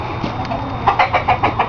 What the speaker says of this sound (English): And he too is an Americana rooster.